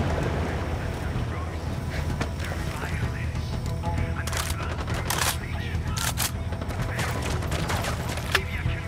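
Gunfire in the open-world shooter Ghost Recon Wildlands: a dense fusillade of sharp bursts and single shots over a steady rumbling background, with combat chatter from voices mixed in.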